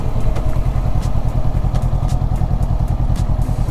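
Honda CB50 motorcycle cruising on an expressway, its small engine giving a steady, loud drone with buffeting rumble throughout, close to the microphone and without speech.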